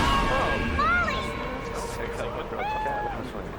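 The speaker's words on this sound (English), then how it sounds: "That cat's gonna get run over." Cartoon cat from the animated series Batman Beyond meowing, several rising and falling meows over a steady background, moderately loud and close, with speech heard as well.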